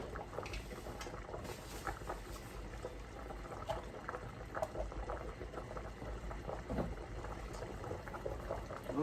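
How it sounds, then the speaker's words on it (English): Spaghetti boils in a pot of water, a steady close bubbling and rolling simmer with fine popping patter that runs throughout at low volume, with no voices. "That spaghetti is cooking."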